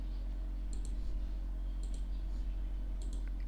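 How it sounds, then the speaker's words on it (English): Computer mouse button double-clicked on a Windows computer, three distinct pairs of sharp, close clicks spaced about a second apart over a steady low electrical hum. "So just double click it to extract the zip file."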